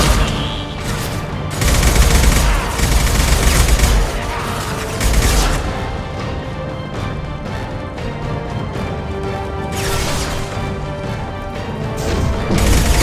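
Rapid gunfire in a Mass Effect fan film battle, loud dense bursts of automatic shots and impacts cutting in and out in several volleys across the scene.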